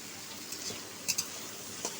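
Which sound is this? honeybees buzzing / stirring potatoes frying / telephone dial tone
stirring potatoes frying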